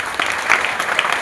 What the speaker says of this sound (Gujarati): તો આ રાષ્ટ્રવાદને આપણે બિરદાવીએ જોરદાર તાળી.